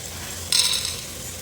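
Whole peppercorns drop into hot oil with mustard seeds, cinnamon and cloves in a pan for hotel-style beef gravy, giving a sudden bright sizzle that flares for about a quarter second, then fades into a low steady fry.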